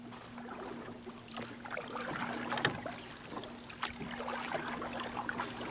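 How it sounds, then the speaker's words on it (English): Quiet sloshing and dripping water with soft wooden knocks, like a paddle dipping repeatedly as a small boat moves along, beneath a faint steady hum. "They paddled and paddled."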